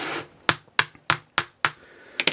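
A metal sand-casting flask tapped to loosen a hand-poured .999 fine silver casting, five sharp, evenly spaced close knocks with quick decay, followed by a couple of softer taps, and no talk.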